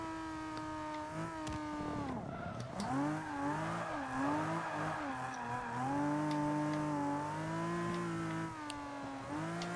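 A Skyline 2000 GT-R drifting in Forza 5, its engine holding a sustained, wavering high rev while the pitch bends up and down through a long slide, loud and close with no voices.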